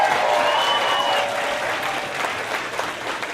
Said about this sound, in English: Another round of applause for our fourth grade students.